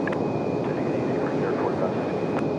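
A United airliner arriving from Newark on approach to the runway at Raleigh-Durham International, a steady broadband engine roar filling the whole span at moderate level, with a voice talking over it.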